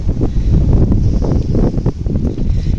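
Strong wind buffets the microphone in loud, low gusts, rumbling continuously with no voices.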